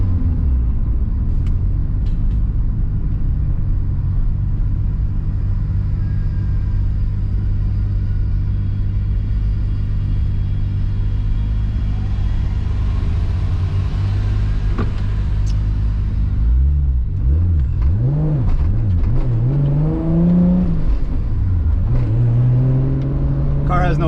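A 700hp 2JZ-powered JDM Toyota Supra running without a blow-off valve, a heavy droning engine rumble that builds, then sharp revs rising and falling, with someone talking over the later part.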